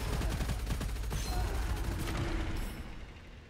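Rapid gunfire in the shooter video game Gunfire Reborn, a dense burst of repeated shots with a booming low end that fades slightly near the end.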